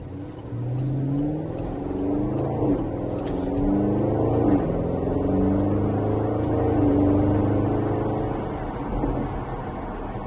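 A 2021 Porsche Cayenne GTS engine revs and climbs through several gear shifts, the pitch rising and dropping repeatedly as it accelerates hard from 0 to 60, fairly loud and continuous.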